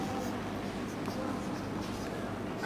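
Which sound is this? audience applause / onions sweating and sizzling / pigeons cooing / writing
writing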